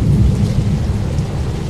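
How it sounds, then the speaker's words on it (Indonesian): Steady rain with a low thunder rumble in the BUSSID bus simulator game, a continuous dense wash that stays even and fairly loud for the whole moment, with no voices. "Bisa kalian lihat kan tuh efek hujan itu benar-benar terasa real bro, keren banget sih."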